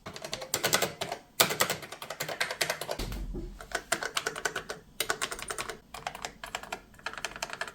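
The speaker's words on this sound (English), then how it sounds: "a keyboard that clicked with a photographer's sense of mechanical assurance" Keys clack rapidly on a Yashica YC-64 MSX computer keyboard, with close, crisp mechanical clicks in quick bursts separated by brief pauses.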